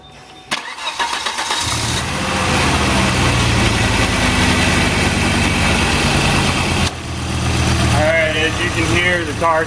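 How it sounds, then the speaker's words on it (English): Volvo 850 engine cranking and catching after a fuel rail installation, then settling into a loud, close idle with a brief dip midway; a voice speaks over it near the end. "the car started just fine. It started right up."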